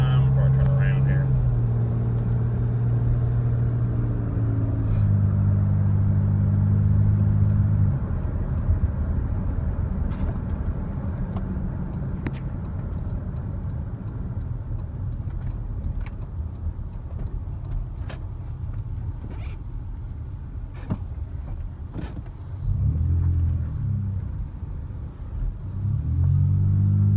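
A 2001 Toyota Tacoma SR5 Prerunner pickup with the TRD off-road package drives with a low engine rumble and road noise from inside the cab, the engine note rising under acceleration in stretches, with a voice talking at times.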